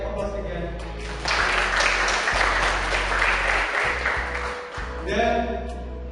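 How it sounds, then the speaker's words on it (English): A seminar audience applauds at a campus event, a dense burst of clapping lasting several seconds and then tapering off, with talk over an amplified room before and after. "Give applause for him."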